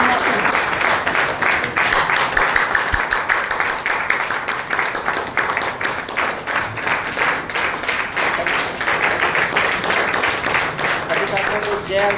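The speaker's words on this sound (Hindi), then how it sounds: "तालियों के साथ" An audience at an RCM motivational gathering claps in a sustained, dense burst of applause that stays loud and even for about twelve seconds.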